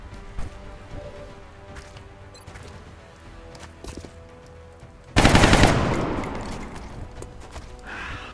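Gunfire from the XCOM Long War strategy game: a loud burst of automatic weapon fire breaks in partway through, following quieter game ambience and faint clicks, and trails off into a fading rumble.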